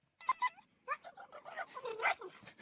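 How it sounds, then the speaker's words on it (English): An excited spaniel lets out strained, squeaky barks that sound broken, two short yelps followed by a run of wavering, whiny cries, close and fairly clear. "it sounds like the dog's bark has actually broken."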